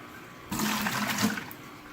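Aquarium protein skimmer waste is dumped into a toilet, then a loud, close flush rushes and gurgles for about a second and a half before fading.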